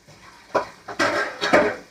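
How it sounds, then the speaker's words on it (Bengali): Pots and cooking utensils lifted off a home stove during lunch preparation, making three or four close, sharp metallic clatters and knocks in quick succession, with no talking. "আমি বাসন একদম নামিয়ে দেবো।"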